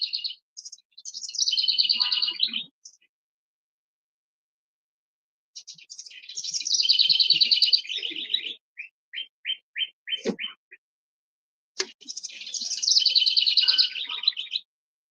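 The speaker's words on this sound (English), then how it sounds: "There's a bunch of birds up in my cherry tree" Birds in a backyard cherry tree give three bright bursts of chirping song with short repeated notes between them. Silent gaps separate the bursts, and a single knock is heard.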